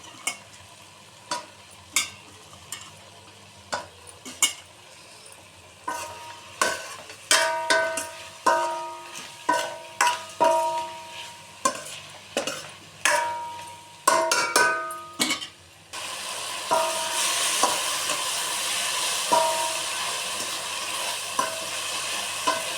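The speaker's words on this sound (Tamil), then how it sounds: "இதெல்லாம் காலிஃப்ளவரையும் போட்டு இதிலே போட்டு வதக்கிடுவோம்." Cauliflower and tomato sautéing in oil for a poori kurma, with a spoon scraping and stirring the pan in repeated sharp strokes over a steady sizzle that swells into loud, continuous frying near the end.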